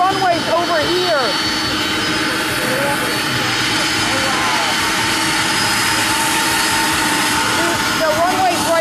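A jet airliner taxis toward the runway at Atlanta airport, its engines producing a loud, steady roar with a high whine throughout, while people talk over it.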